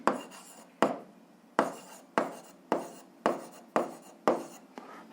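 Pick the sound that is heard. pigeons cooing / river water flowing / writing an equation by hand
writing an equation by hand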